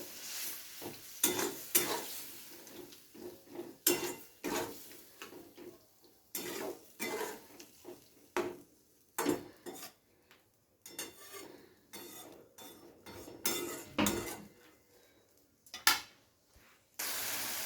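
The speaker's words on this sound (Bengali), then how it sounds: "খুন্তি দিয়ে এভাবে একটু পিটিয়ে দিলে কিন্তু টমেটোগুলো সব গলে যায়" A spatula beats and mashes onions and tomatoes in a pan for a Bengali fish and radish dish, making irregular, close metallic taps and scrapes in short bursts separated by quiet gaps, with faint sizzling underneath.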